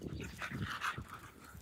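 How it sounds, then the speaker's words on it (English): Dogs on a paved bike trail breathing in quick, soft panting bursts with faint whimpers, heard close but quietly over outdoor background noise. "Here, look at these dogs."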